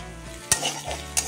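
Masala pasta sauce gets stirred in a hot pan, a close sizzling hiss broken by two sharp clacks of a spoon against the metal, with no talking over it.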